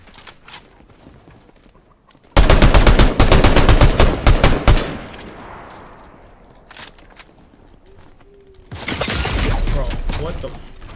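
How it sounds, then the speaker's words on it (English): Gunfire in an online shooter game, in loud, rapid bursts of automatic fire, a quieter stretch in between, then another sustained volley near the end. "Somebody's shooting at me."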